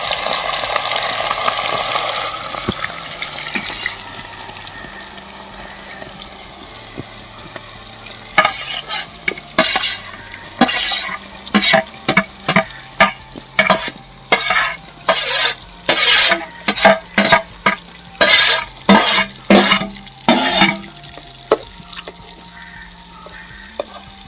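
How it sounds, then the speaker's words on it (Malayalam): Prawns fry in hot oil in a pan, a steady sizzle overlaid with a quick run of sharp scraping stirs from a ladle, close and fairly loud, with no voices. "ചെമ്മീനും കൂടി ഒന്ന് എണ്ണയിലിട്ടിട്ട് ഒന്ന് പൊരിച്ചെടുക്കാം"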